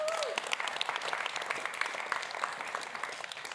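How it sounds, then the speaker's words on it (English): An audience applauds after a talk, with dense, steady clapping from a sizable crowd that fills several seconds and stays fairly even throughout. "I think that's worth a round of applause."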